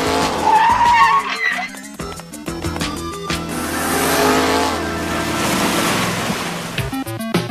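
A video game car drives in with loud skidding and revving, tires screeching as the engine roars, over continuous game music and ambient whooshing.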